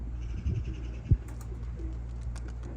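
Soft coos of young pigeons and a flutter of wings on a rooftop loft over a low outdoor hum, quiet and somewhat distant.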